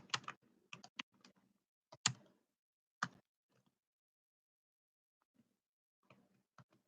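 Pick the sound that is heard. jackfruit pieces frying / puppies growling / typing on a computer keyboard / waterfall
typing on a computer keyboard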